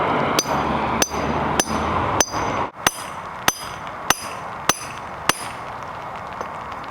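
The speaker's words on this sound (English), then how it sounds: "the more you hammer it" A steel punch driven by a hammer into a drop-in concrete anchor for bolting down a gun safe: about ten sharp metallic strikes at a steady, slightly irregular pace, close and loud over a dull background rumble.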